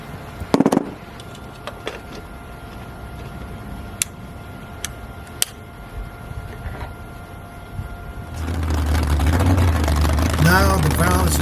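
A Ford 351 Windsor V8 built to about 530 horsepower: quiet irregular ticking at first, then a loud, steady low idle rumble sets in near the end while someone talks over it.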